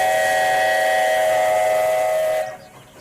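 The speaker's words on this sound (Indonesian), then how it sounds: "Lihat teman-teman, kereta api Thomas." A toy Thomas train gives a sustained, shrill steam-whistle toot, held steadily for about two and a half seconds before cutting off, leaving faint background noise.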